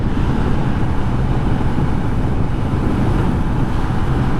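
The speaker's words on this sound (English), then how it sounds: "It's always windy out here in the park." Strong wind blasts across the microphone in an open park, a loud, continuous rumbling roar that barely changes over its few seconds.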